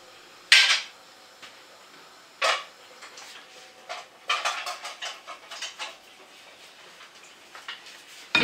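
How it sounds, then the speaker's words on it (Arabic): A knife slicing through kiwi fruit on a board for a kiwi tart gives sharp separate cuts, first a few spaced strokes and then a quicker run of soft chops, close and clear with no talking. "المهم غادي ندوز دابا نقطع الكيوي"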